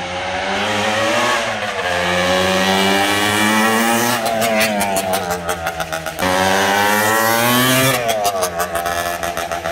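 A 1971 OSSA 250 TT scrambler motorcycle engine runs nearby, revving in loud rising and falling bursts, dropping to a rapid two-stroke burble between throttle blips.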